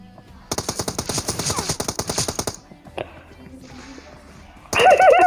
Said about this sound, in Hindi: भाई फायरिंग दे दे ऐसे फायरिंग दे